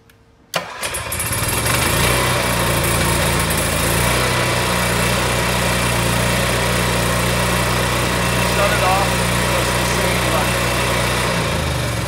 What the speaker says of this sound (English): When that generator starts up, it'll run for about 30 seconds before the transfer switch actually engages the power.